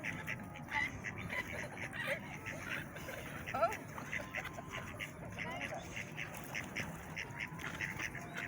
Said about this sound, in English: and there's ducks in amongst them as well.